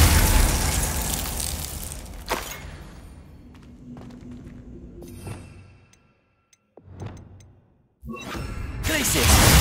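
A Glacius ice spell cast in Hogwarts Legacy: a loud whooshing burst opens, followed by quieter cracks and pops, a near-silent pause, then another loud, swelling blast at the end.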